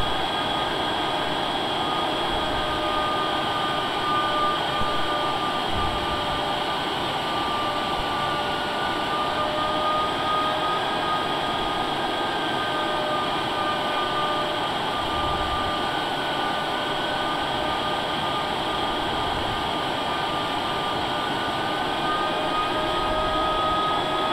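Darkstar aircraft engines in a flight video game run as a steady, spooled-up roar with a constant whine, holding level and loud throughout without talk.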